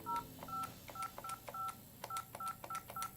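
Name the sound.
DTMF tones dialing a number on Cisco 508 phone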